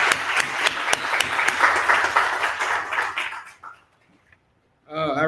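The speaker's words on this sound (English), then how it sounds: "Let's give him another hand." Audience at an evening author event breaks into a burst of clapping and applause that fades out, followed by a brief moment of talk.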